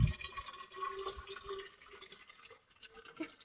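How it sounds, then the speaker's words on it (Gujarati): Water being filled into a container, a soft trickling and splashing fill with faint drips, fairly quiet and close, with no voices. "હું તો અહીંયા પાણી ભરે છે. પાણી ભરી લે"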